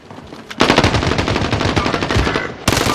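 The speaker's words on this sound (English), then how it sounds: "I shot a LMG at this fool, and I only cracked him." Sustained light machine gun fire in a video game, rapid continuous loud bursts after a short quiet start, a brief pause, then firing again, no talk.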